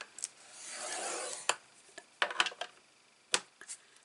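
Short scraping rubs of a score tool drawn across a 12 by 12 paper sheet, one longer swish followed by several quick taps and clicks, close and quiet with no talk.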